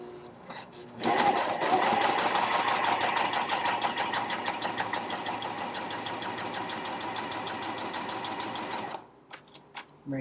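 A Janome Coverpro 1000cpx coverstitch machine runs a row of stitching at a fast, even needle rhythm for about eight seconds, then stops abruptly, with a voice talking over it.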